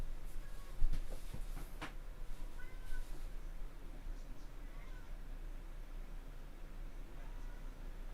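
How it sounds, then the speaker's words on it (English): A cat meows loudly a few times near the start, sharp repeated cries over a steady hiss of background noise, then fainter calls trail off. "Hear the cat popping off."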